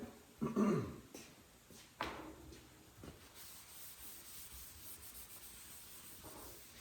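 A wet rag soaked in wax and grease remover rubs across the body panel of a 1957 Chevy in a shop, giving a few close, brisk wiping strokes early on, then softer, fading rubbing with no talk.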